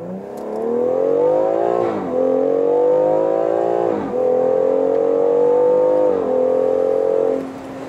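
A BMW X4 M Competition engine revs hard and steady on a race track, dropping briefly at each gear shift before climbing again, loud and close with no talking.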